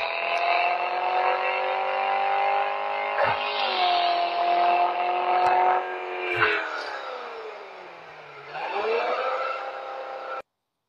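A stock BMW M3 E46 Coupe engine pulls hard under acceleration, with a loud, sustained induction growl from the air filter that rises in pitch, dips briefly between shifts and climbs again before cutting off.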